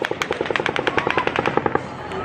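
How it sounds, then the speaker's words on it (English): Rapid bursts of automatic gunfire during the Las Vegas massacre, a volley of about twenty sharp, evenly spaced cracks over two seconds, loud and dense, then cutting off into a fading echo. "the 7th volley of automatic gunfire begins"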